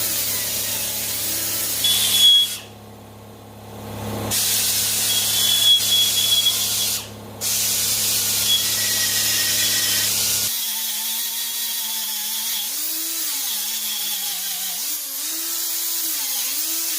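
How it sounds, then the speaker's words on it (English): A power tool chamfers the crack edges of a broken Honda CB77 SuperHawk motorcycle rearset mount, giving a continuous close grinding whine with brief pauses, then a quieter, wavering motor pitch as the work continues. "I'm starting by chamfering the edges of the cracks so that we have a nice groove to weld in."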